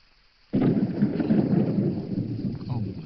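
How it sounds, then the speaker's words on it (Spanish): Heavy rain breaks out suddenly and keeps pouring as a steady, dense roar with a deep rumble of thunder, loud and close, with no talking. "¿Sabés cómo le viene esta lluvia al campo?"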